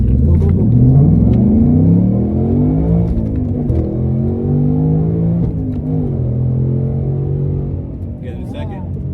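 A Ford Mustang FP800s in sport mode launches hard from a standstill, its engine rising in rapid climbing sweeps through several gears with a loud, steady roar. Voices call out over the engine.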